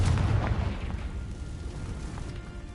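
In Hogwarts Legacy, a Confringo fire spell bursts with a loud, rumbling blast that swells at the start and then trails off into a sustained low roar.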